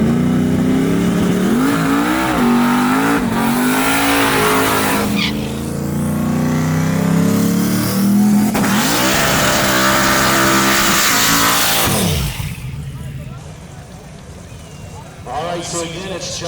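A 1995 Mustang launches down a rough drag strip, its engine revving hard and climbing through gears before fading off, while an announcer talks loudly over the run.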